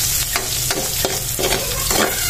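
Onion and garlic sauté in hot oil for a Filipino corned beef and potato dish, with a loud close sizzle and rhythmic scraping stir strokes spaced about a third of a second apart. No talk.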